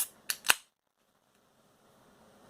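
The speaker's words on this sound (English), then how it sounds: "let's pop her open" A beer bottle cap is pried off with two or three quick, sharp metallic clicks, the last one loudest, then faint hiss and quiet.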